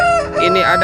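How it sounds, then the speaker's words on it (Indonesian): A toy rooster gives a short electronic cock-a-doodle-doo crow, loud and close, with a brief spoken phrase at the start. "ayam berkokok."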